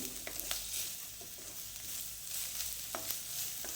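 Chopped onion stir-fried in oil in a pan for homemade Schezwan noodles, a steady, moderately quiet sizzle with a few sharper stirring scrapes and no speech.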